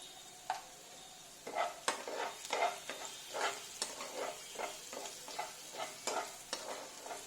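A yogurt mixture is stirred into katla fish frying with fenugreek, giving a soft background sizzle broken by repeated scraping strokes of a spatula against the pan.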